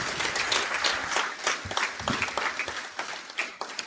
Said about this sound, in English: Can we clap for her and give her a hearty clap?